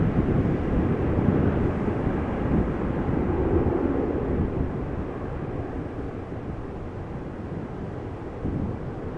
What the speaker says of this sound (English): China Cargo, flight 1034, destination Shanghai, Boeing 747-400 freighter